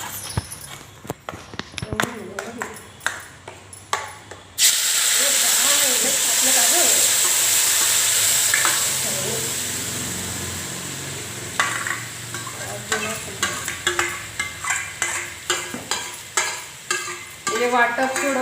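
Masala paste dropped into hot oil in a kadhai for a spicy karandi dish erupts into a loud, steady sizzle after a few opening clinks and stirs, settling into frying with repeated spatula scrapes and knocks toward the end.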